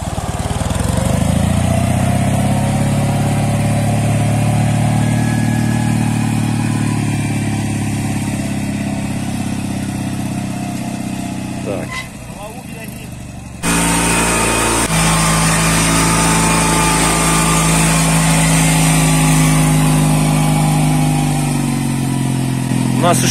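A KMZ T-012 mini tractor pushes snow with its factory blade, its small engine droning steadily and loudly nearby, briefly dropping and muffled near the middle before returning at full strength.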